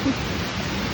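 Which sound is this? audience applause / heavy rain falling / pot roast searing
heavy rain falling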